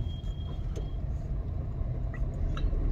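From inside a car during a driving lesson, the engine gives a low, steady rumble that swells slightly as revs build before a gear change.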